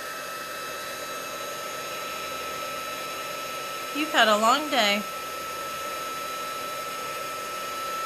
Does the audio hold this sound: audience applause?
no